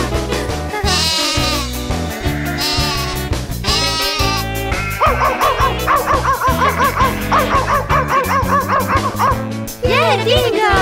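Barking in a children's animated song about a bus with dogs aboard, repeated in triplets over steady music and singing voices that imitate the woof throughout.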